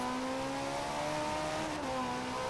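Ferrari engine in Forza Horizon 4 holding a steady, droning note at moderate volume for the whole stretch, with no talk over it.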